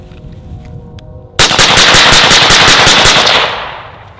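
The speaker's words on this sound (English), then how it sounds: "Same thing, 10 round string of fire," A rapid ten-round string of gunfire through a Surefire SOCOM RC2 Mini suppressor, sharp evenly spaced reports over about two seconds, loud and close, with a short decaying tail after the last shot.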